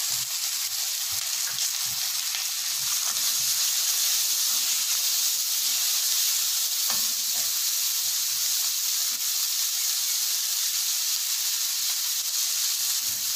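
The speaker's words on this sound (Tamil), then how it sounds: "வெங்காயம் நல்லா வதங்கணும்" Chopped onions sizzle steadily in hot oil for chana masala gravy, a close, even frying hiss with faint stirring clicks and no talking.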